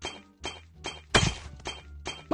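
Stone blocks being broken in Minecraft give repeated crunchy cracking hits, six in quick succession, each a short gritty burst, with no voice over them.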